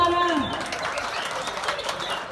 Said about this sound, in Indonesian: Mana nih tepuk tangannya?